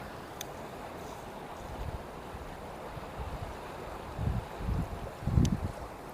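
Fast-flowing Sabarmati river water gives a steady, broad rushing wash with a few louder surging swells near the end, mixed with some wind buffeting on the microphone, and no voices.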